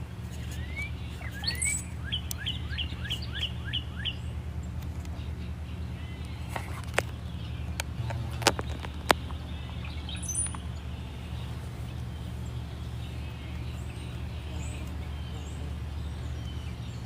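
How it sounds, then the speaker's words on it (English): Birds chirp and tweet outdoors among trees, with a quick run of repeated chirps early on followed by sparse, scattered calls over a low steady background hum. "The birds seem to have quieted down a little bit more."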